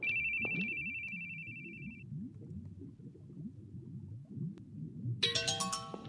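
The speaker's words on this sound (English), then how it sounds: "followed by him hearing the phone ringing." A phone in the video game The Boogie Man rings in a warbling electronic tone, stops, then chimes again later over a low, rumbling underwater-like ambience.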